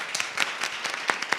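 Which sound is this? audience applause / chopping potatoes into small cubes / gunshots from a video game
audience applause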